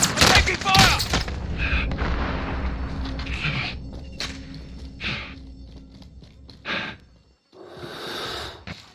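Video game gunfire: a dense cluster of loud, sharp shots opens the sequence, followed by scattered hissing bursts and single reports spaced irregularly, with a brief silence before a final longer noisy burst.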